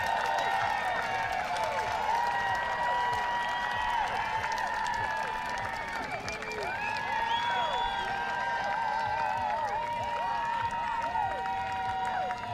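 Home crowd at an Angel City FC soccer match cheering an early goal against Portland Thorns, a loud sustained roar full of whistles and shouts, with a commentator talking over it.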